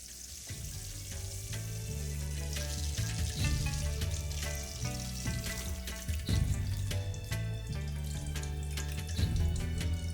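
Bata fish frying in a wok of hot oil makes a loud, continuous crackling sizzle throughout, with irregular spatters and occasional soft scraping or knocking of a utensil in the foreground.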